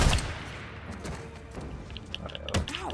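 Gunfire in the Days Gone video game during a fight with drifters, with brief bursts of shots and a heavier thump near the end against a busy game soundscape.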